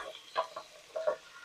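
Hamburger and pork sausage sizzle as they hit a pot with softened onions, with a few close crackling and spattering bursts over a quiet background.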